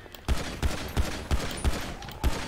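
Gunfire from the FiveM role-play game: six heavy, booming shots in a fairly even rhythm about a third of a second apart, loud and close, with faint background sound between them.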